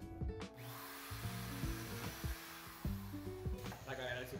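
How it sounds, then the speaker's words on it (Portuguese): An electric drill labors against a hard, smooth plastic piece, its motor whining in uneven bursts that start and stop several times, close and fairly loud with no talk over it. "a furadeira não tá conseguindo fazer o buraco"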